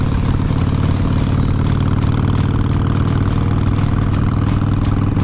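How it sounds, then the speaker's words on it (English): Steady, loud engine rumble from a 2014 Harley-Davidson Sportster Iron 883 motorcycle, running continuously with a low, even throb and no voices throughout. "On a 2014 Harley-Davidson Iron 883."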